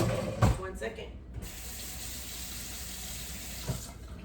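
A kitchen tap runs steadily while dishes are washed during scone baking, with a splash and clatter at the start, then an even hiss of flowing water throughout.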